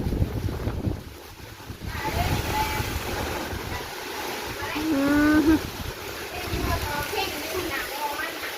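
Strong wind gusting and roaring across the microphone outdoors near mango trees, rising and falling in loud buffets, with people talking faintly in the background.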